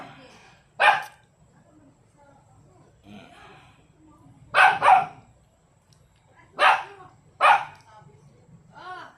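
A small, young, fierce dog barks at people passing by, firing bursts of loud, close barks, several in quick doubles, with a person talking in between.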